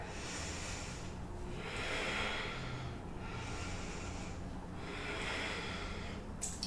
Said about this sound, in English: 2 more cycles of breath.